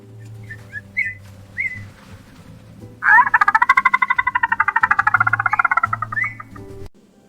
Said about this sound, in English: The dolphin whistles happily.